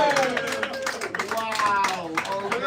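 An audience at a live Star Trek versus Star Wars debate, with clapping and excited voices blending into a lively cheer, loud and close for a few seconds.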